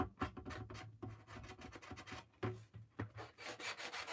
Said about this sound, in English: Seems like sanding always kind of softens up what you're making.